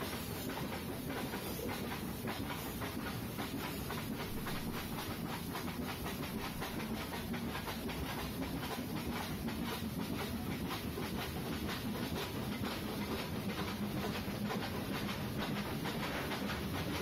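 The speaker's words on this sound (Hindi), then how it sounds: "तो ये हमारी ट्रेन जा रही है," The Nilgiri Mountain Railway toy train runs along its hill track with a steady, even rumble and a continuous rhythmic clatter of wheels, heard close and without any voices.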